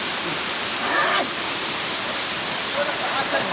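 A jungle waterfall roars as a steady, broad rush of falling water, with people bathing nearby and voices faintly audible over the constant flow.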